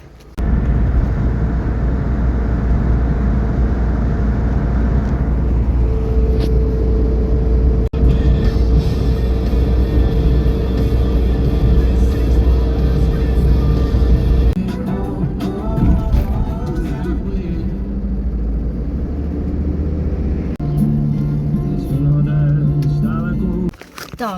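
A car travels along a road in the Cherkasy region of Ukraine, giving a continuous low cabin rumble and road hum heard from inside, with the tone shifting midway through.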